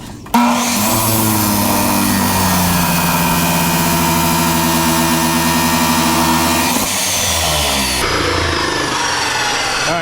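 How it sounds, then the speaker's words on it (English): A Hercules chop saw runs loud and close with a steady high motor whine and strong harmonic drone while cutting, then the tone shifts as the blade spins down. "So I got my handy dandy Hercules chop saw. Let's cut it and let's see what we got."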